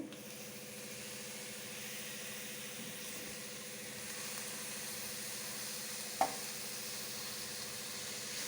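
Goat boti (tripe) and liver fry in a hot pan in Rayalaseema style, giving a steady, even sizzle throughout with the faint scrape of stirring and one sharp clink near the end.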